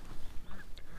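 A goose honking, a short series of nasal calls over about a second, fairly faint and alone with no speech.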